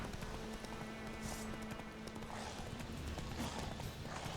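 Roach the horse in The Witcher 3 trots with steady, rapid clip-clop hoofbeats that carry on without a break, close and fairly loud, with no talking.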